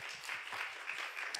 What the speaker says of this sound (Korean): 우리 예배 드리게 해주신 하나님께 영광의 박수 돌리도록 하겠습니다